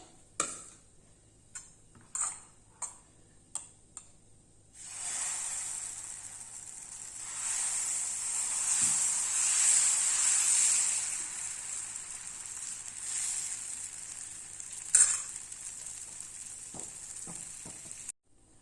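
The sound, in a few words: dosa batter sizzling as it cooks on a hot pan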